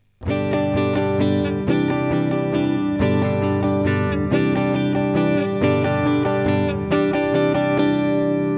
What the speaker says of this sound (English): let's apply now the strumming to the chords